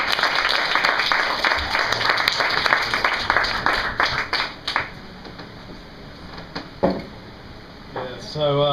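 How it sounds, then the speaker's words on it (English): Comedy club audience at the Camden Head in London applauds between acts, dense clapping for several seconds that thins into scattered claps and fades, with a voice starting to speak near the end. "Let's get that clapping up again."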